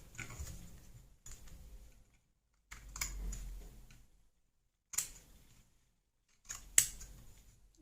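Scissors snipping off excess material from a handmade shabby-style decorative heart, several short separate bursts of close, quiet cutting with pauses between them in an otherwise silent room.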